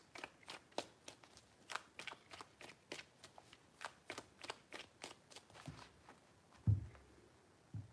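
Tarot cards are shuffled by hand in a quick run of crisp, evenly spaced riffling taps, soft and close, ending with a slightly heavier knock.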